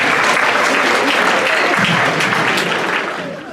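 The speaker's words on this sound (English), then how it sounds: "Another round of applause for the Latinos Unidos officers and the women of the" Dense, loud clapping from an assembly crowd honouring the Latinos Unidos officers, sustained throughout and fading slightly at the very end.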